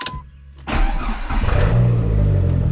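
A 2004 Dodge SRT-4 engine cranks briefly and catches, then settles into a steady, loud idle close to the listener, with no talking over it.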